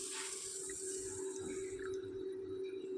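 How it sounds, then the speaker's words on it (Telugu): Water runs steadily as it is poured over washed horse gram in a bowl, a continuous close splashing rush with no talk. "వాష్ చేసుకున్న తర్వాత మరోసారి నీళ్ళు పోసి"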